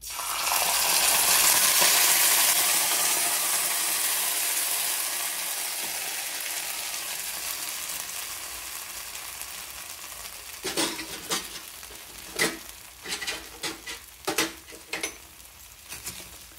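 Spices for tempering hit hot oil for peanut chutney, a loud, dense sizzle that fades over several seconds before stirring and the clatter of a pan take over in short bursts.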